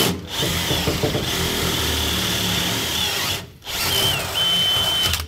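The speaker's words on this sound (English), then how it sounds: "These are good drill bits." A power drill bores into material in a garage, a steady high whine running for a few seconds, cutting out briefly, then starting again.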